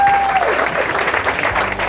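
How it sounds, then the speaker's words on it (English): Wedding guests applaud the bridal party after a speech: a brief burst of loud, close, crowded clapping runs throughout. "can we have a round of applause for all of them?"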